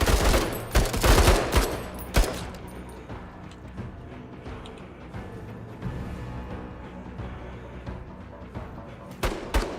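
Crocodile rifle fire in the tactical game Menace: a cluster of loud, sharp shots at the start, then a quieter rumbling stretch with a few scattered reports, and a final loud blast near the end.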